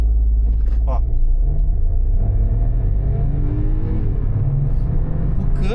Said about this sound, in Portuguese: Vou desligar o controle de tração e vou dar uma arrancadinha aqui,